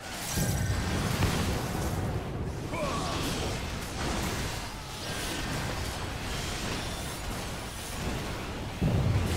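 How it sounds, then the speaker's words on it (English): Video game explosion rolling out as a dense, roaring burst of noise that holds for several seconds with shifting rumble and a fresh surge at the end. "Explosion."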